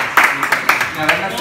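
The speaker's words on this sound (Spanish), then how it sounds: "Es para aplaudirlo en vivo" A few sharp claps from people in a live studio setting, scattered and brief, close by and mixed with talking voices.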